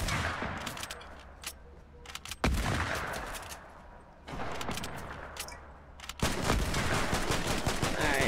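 Rapid bursts of gunfire in Fortnite's Neymar Jr Go Crazy arena mode, sharp repeated shots clustering into heavy volleys that grow louder and denser toward the end.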